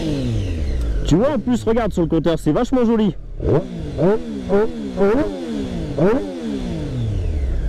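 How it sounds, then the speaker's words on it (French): A new motorcycle's engine revs repeatedly through its air box, each throttle blip rising and falling in pitch in quick succession, close and fairly loud, while someone talks over it. "Allez, j'accélère un peu."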